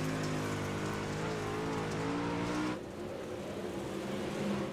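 A dirt-track race car engine in the iRacing game drones steadily under throttle with a buzzing, rising tone, then its pitch drops suddenly as it eases off, loud and continuous with no talking.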